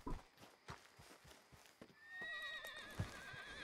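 A horse with a white mane in Red Dead whinnies loudly and nearby, a long wavering neigh rising over a steady clip-clop of hooves, with no talk.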